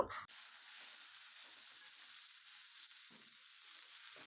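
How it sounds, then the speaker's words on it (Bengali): Cauliflower florets fry in hot oil for a home-style vegetarian cauliflower roast, giving a constant bright sizzle and hiss close up, with a brief stir or clatter at the start. "এদিকে দেখো ফুলকপিটা আমার প্রায় ভাজা হয়ে গেছে"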